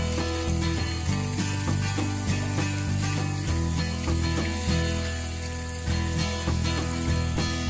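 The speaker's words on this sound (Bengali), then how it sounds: "ভাজা হচ্ছে মাছগুলি" Rui fish fry in a pan, a close steady sizzle running throughout beneath a layer of steady background music, with no talking.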